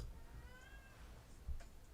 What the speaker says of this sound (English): you hear Kitty? Kitty, please